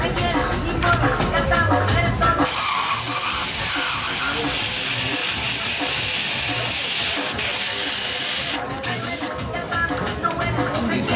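An airbrush hisses steadily as it sprays tattoo ink to fill cheetah-print stencil effects with rippled shading. The loud, continuous hiss runs through most of the clip, with brief pauses near the start and end.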